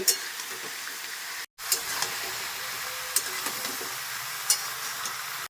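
Vegetables fry in a pan for a hilsa and eggplant curry, a continuous close sizzle with occasional scraping stirs and a brief cut of silence partway through.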